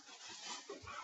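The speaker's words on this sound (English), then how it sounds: "Sorry if you guys hear my dogs playing in the background." Dogs roughhousing at play in a nearby room: a brief, faint scuffle with soft whimpering and grunting sounds.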